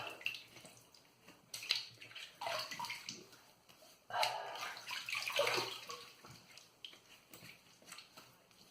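Running water splashes and gurgles during a wet shave rinse with a Razorock Mamba 53 razor, in irregular close bursts of flow with short pauses between them.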